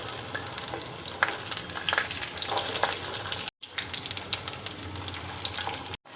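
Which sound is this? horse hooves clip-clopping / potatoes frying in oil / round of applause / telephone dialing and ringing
potatoes frying in oil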